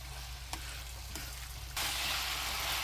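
Rice is stirred into garlic soy sauce in a hot, oiled pan, giving a soft scraping stir that jumps to a louder, steady sizzle partway through, with no talking.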